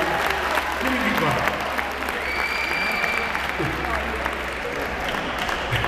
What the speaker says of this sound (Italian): Non vedi mai l'applauso a sua eccellenza, complimenti.